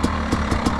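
KTM 300 TE two-stroke enduro motorcycle with a freshly rebuilt engine, idling steadily up close with a rough mid-range drone and faint periodic pulses, no voices.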